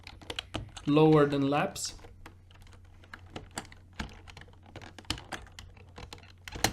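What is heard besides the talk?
typing on a computer keyboard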